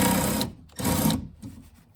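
A powered driver whirs against a bolt on the rear window regulator of a 2004 Saab 9-3, in two loud, close buzzing bursts with short pauses and a fainter spin between them.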